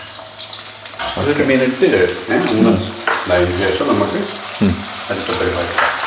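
Garlic frying in hot coconut oil gives a steady hiss and crackle, close and fairly loud, with stirring scrapes and a voice talking over it.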